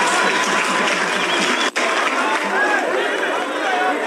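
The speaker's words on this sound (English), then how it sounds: "Can you clap for me?" A crowd applauds a Luhya elder with steady, dense clapping that stays loud and close throughout, mixed with chatter and one brief break near the middle.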